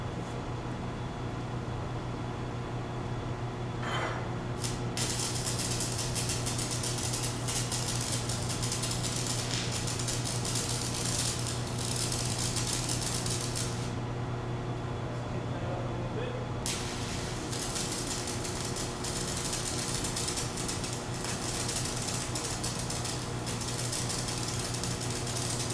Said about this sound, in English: Now let's go ahead and get some welding done on it.